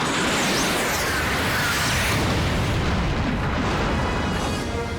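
A missile strike on a satellite in a sci-fi film erupts as a sustained, loud, broadband explosive roar with rumbling debris that fills the whole clip without any voices.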